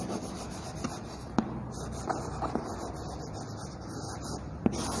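Writing on a board during a children's English grammar class: a soft, continuous scratchy rubbing with a few sharp taps and clicks, close and fairly quiet.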